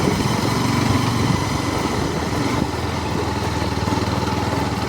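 A motorbike engine drones steadily and close while riding a mountain road near the Arun River in Sankhuwasabha, Nepal, a continuous buzzing hum with no pauses and no talk over it.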